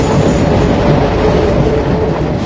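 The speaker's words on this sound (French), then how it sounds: "Mais le métro s'arrête pas?" A metro train runs without stopping, a loud, close, continuous rumble and clatter of wheels on rails that holds steady throughout with no one speaking.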